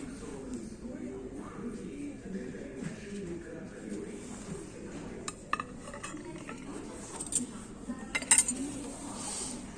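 Light clinks and taps of ceramic plates being handled in a store, a few sharper chinks near the end, over steady background chatter and room noise.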